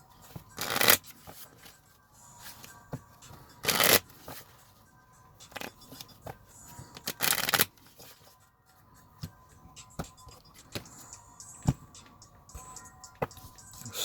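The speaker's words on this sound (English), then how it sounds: "Shuffle." Cards for the Gears of War card game are shuffled in several loud riffling bursts, each lasting about a second, separated by quieter handling, tapping and sliding of cards with no talking.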